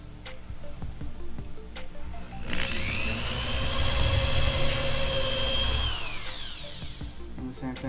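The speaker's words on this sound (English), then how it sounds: "Put some marks on the way to drill." A power drill whines up and bores into a box holding a DMX decoder for LED tape, with a steady high-pitched motor drone lasting a few seconds at close range. Lighter handling noise comes before and after the drilling.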